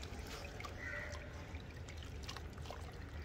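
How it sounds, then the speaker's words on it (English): Water gently poured over a Labrador puppy during a bath, a soft, faint trickling splash heard close up and continuing for a few seconds. "So now let's gently put in some water."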